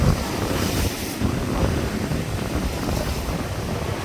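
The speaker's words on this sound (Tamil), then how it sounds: "இந்த பயங்கர காற்றா இருக்குது" Strong wind buffets the microphone over rough, churning sea off Point Pedro, with a broad steady roar of gusts and surf as a boat heads out; no voices.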